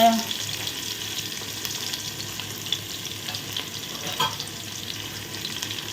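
Oil frying in a pan while chopped onions are prepared for egg biryani, giving a continuous, even sizzle close by with light stirring and occasional soft clinks.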